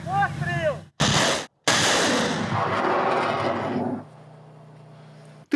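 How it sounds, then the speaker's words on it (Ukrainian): A single heavy artillery gun firing a ranging shot booms close by after a few moments of talk, followed by a long rumbling echo that fades to a low hum. "Перший постріл, як годиться, пристрільний."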